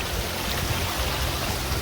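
Mountain spring water trickles and seeps down a hillside near Korigad fort, a close, continuous gurgling flow lasting under two seconds with no voices.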